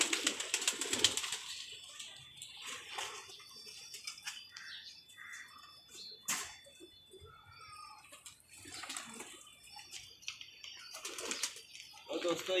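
Pigeon cooing from a new pair kept at a pigeon club, soft repeated coos and chirps close by, mixed with faint background noise and occasional clicks, while someone talks over much of it.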